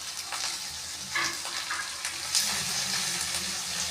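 Prawns fry in oil with onion and okra in a pan, a soft crackling sizzle with a few scraping stirs and light clinks, fairly quiet and close, with no talking.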